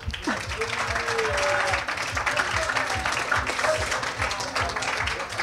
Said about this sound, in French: Je pense qu'on peut les applaudir déjà.